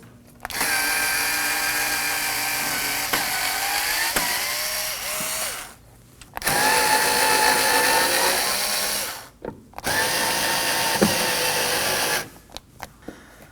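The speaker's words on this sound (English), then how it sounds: "Using a Phillips screwdriver, we're going to go ahead and remove this bolt and these two over here." Power tool whirring in three long bursts separated by brief pauses while removing bolts from the fender liner of a 2016-2020 Kia Sorento, fairly loud and close with no talking.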